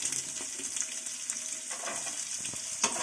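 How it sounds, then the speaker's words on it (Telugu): Onions frying in oil in a pan for a mushroom curry, with a steady close sizzle and a few soft stirring scrapes, then a sharper clink near the end. "ఇది ఇప్పుడు గోల్డెన్ బ్రౌన్ కలర్ వచ్చే వరకు మనం ఫ్రై చేసేసుకోవాలి"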